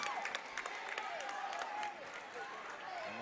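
A basketball crowd in a school gym applauds and cheers before free throws, a steady roar with scattered claps and shouts, with speech over it.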